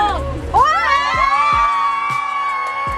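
Class 12 students on a waterpark picnic trip shout and cheer together loudly, a crowd of excited, high-pitched voices rising in a sustained group yell with claps and thumps underneath.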